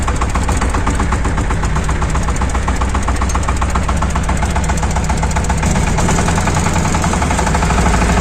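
A Shifeng 240/244 mini tractor engine runs steadily at low revs, a loud, continuous rumble with a rattling vibration throughout.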